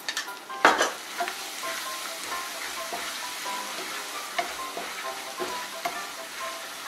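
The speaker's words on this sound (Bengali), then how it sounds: "মশলাটা আমার ভাজা হয়ে গিয়েছে" Spice paste with a spoonful of curd frying in a pan for a Bengali milk-cooked spiny gourd dish, a steady close sizzle with repeated stirring scrapes and a louder burst near the start.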